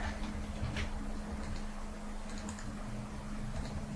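Computer keyboard keys tapped in quick, irregular bursts while a command is entered on a Windows 7 PC, fairly close and soft, over a steady low hum with no talking.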